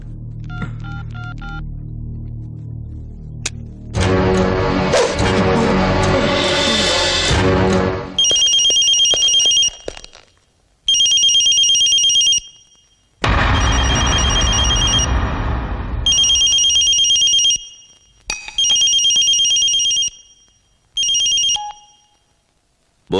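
A telephone rings with repeated electronic tone bursts separated by gaps, loud and close, after an opening stretch of dramatic film music in an action movie scene.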